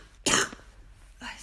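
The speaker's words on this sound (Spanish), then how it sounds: "Esta tos." A single loud, harsh cough bursts out close by, followed after a pause by a weaker second cough or throat-clearing, with no talk around it.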